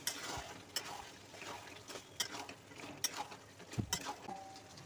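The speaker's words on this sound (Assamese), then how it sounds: "এতিয়া ভালদৰে লৰাই দিম।" Mutton curry with fried potatoes stirred in a pot, a rhythmic series of scraping knocks from a spoon against the metal, fairly quiet and close, with no talking.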